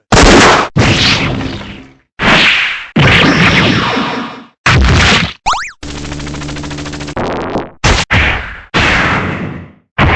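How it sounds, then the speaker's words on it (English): Heavy machine gun fire from the Metal Slug video game: a sequence of loud, punchy bursts and short effects separated by brief silences, with one sustained buzzing stretch in the middle. "Heavy machine gun."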